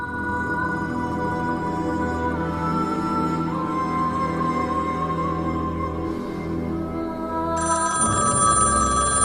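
A telephone ringing loudly and steadily with a sustained electronic ring tone, up close and alone with no voices, the pitch shifting and brightening near the end.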